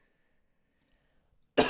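A single sharp cough bursts out close to the mic after near silence from a streamer commentating a tournament.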